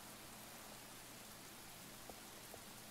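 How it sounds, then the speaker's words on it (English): Steady rain falls in the Star Stable Online horse-riding game, a faint, even hiss of drops with no voices and only a couple of tiny taps near the end. "and now it's raining."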